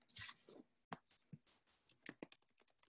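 Quick, irregular clicks and taps on a computer keyboard, entering a search in a library catalog, sounding close and fairly loud, with short pauses between bursts and no talking.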